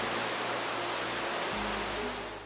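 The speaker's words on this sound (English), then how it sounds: "this waterfall defies the norm by flowing upward" Steady broadband roar of rushing water from a waterfall said to flow upward, pushed back by strong wind from below; a dense, constant wash of noise with no talk, easing slightly at the end.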